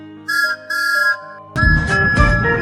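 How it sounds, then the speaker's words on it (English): A bright, airy cartoon steam train whistle, Thomas the Tank Engine's, sounds in two short blasts, followed by a brighter, busier whistle tone over clattering, cartoon-like music. "they changed Thomas's whistle"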